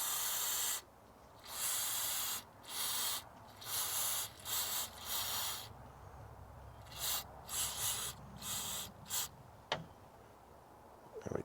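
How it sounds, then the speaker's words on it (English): Short bursts of MAF sensor cleaner hiss from a spray can into the mass airflow sensor of a Ford Ranger, about eight close, sharp sprays separated by brief pauses, with a small click near the end. "You just want to spray the actual chemical inside the sensor."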